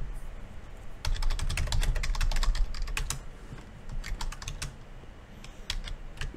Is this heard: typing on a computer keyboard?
yes